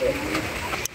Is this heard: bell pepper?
no